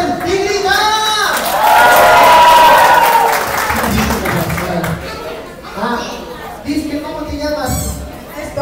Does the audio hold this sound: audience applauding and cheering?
yes